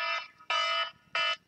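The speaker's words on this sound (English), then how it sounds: "That's my timer going off" A timer alarm beeps three times in a steady pattern, each tone bright and electronic and lasting a fraction of a second, with short gaps between and nothing else heard.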